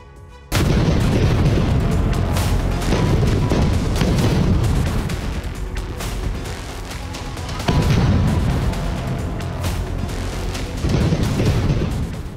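Heavy explosions and artillery fire in Gaza, loud booming blasts rolling one into another almost without pause, with surges and short dips in intensity.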